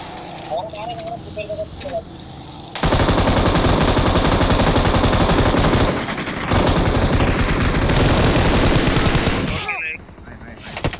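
Rapid automatic gunfire from the battle royale game BGMI, loud and dense, bursting in at about three seconds and hammering on almost without pause to near the ten-second mark, with a brief dip in the middle and quieter game sounds before and after.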